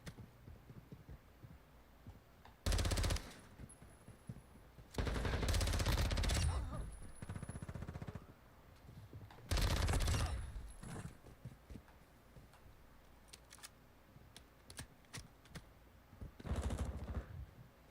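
Gunfire shooting through windows in a video game, several loud, separated bursts of rapid shots, each lasting about a second, with quieter game noise and faint clicks between them.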